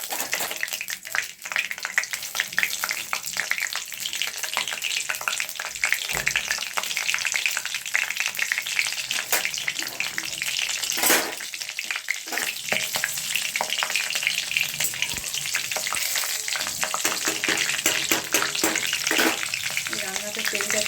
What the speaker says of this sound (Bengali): তেল গরম হয়ে গেছে, আমি কালো জিরা দিলাম আর কাঁচা লঙ্কা দেওয়ার চেষ্টা করবে।